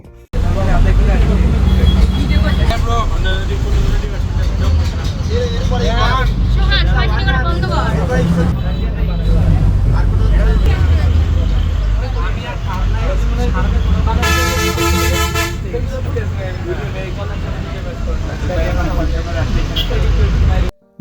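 Passengers chatter and laugh inside a moving bus on a trip in Bangladesh, with engine rumble throughout, a continuous crowded babble of voices and a short blaring horn partway through.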